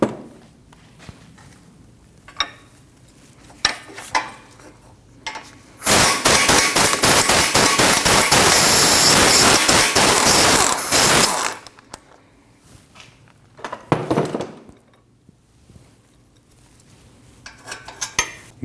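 Underneath a 2013-2019 Ford Escape 1.5L, an impact or ratchet tool rattles loose the 15 mm lower ball joint pinch bolt and 18 mm nut in one loud sustained burst, with scattered metallic clinks and taps before and after.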